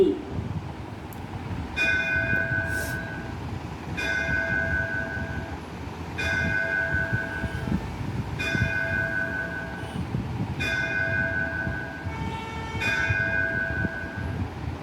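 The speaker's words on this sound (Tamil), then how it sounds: "அருள்மிகு ஸ்ரீ மதுர வீரன் ஸ்ரீ மாரியம்மன் திருக்கோயில் மணியோசை" A Mariamman temple bell in Salem district, Tamil Nadu, rings at 6 a.m. in slow, evenly spaced strikes, each ringing on with a bright metallic tone over a steady background hum.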